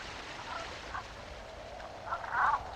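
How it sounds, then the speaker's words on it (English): Brant geese gather at a sheltered coastal stopover in southern Alaska in October, giving a few soft honking calls over a quiet background, the last call louder and nearer. "In October, thousands of waterfowl, such as these Brant geese, stop over at sheltered coastal areas of southern Alaska"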